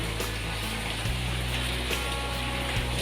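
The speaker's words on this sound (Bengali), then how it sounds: "আজকে আর হলো না বৃষ্টি এসে গেল" Rain falls steadily, a dense, even hiss that stays constant throughout over a low background hum, with no voices.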